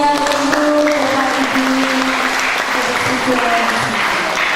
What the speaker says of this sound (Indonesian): Beri tepuk tangan yang meriah untuk Bapak